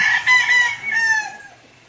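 A Roundhead x Yellow-Legged Hatch gamefowl rooster crows once, close and clear, in a backyard, with the call tailing off at the end.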